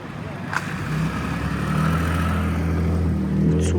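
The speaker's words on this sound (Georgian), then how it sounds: "ეხლა წამოვა ტრაქტორი." A tractor approaches in deep snow on a rough mountain track, its engine a steady low rumble that swells gradually as it nears.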